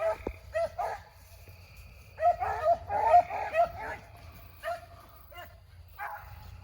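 Hunting dogs bay and yip in bursts while running a rabbit in the field, the barks coming in clustered volleys at moderate distance with quieter gaps and faint whimpers between.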